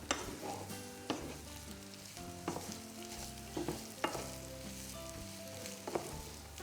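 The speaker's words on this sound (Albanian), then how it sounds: "Dhe i lëm pak të kaurdisen, sa të zbuten një qik." Sliced onion with red and green bell peppers sizzle in a frying pan, a soft steady crackle broken by several sharp stirring scrapes at irregular intervals, close and fairly quiet with no talking.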